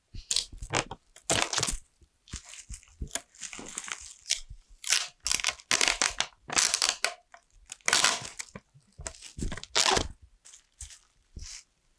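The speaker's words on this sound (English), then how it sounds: "wrap them each in bubble wrap" Nail polish bottles being wrapped in bubble wrap while packing orders, a run of loud, close crinkling and crunching bursts with short pauses between handlings.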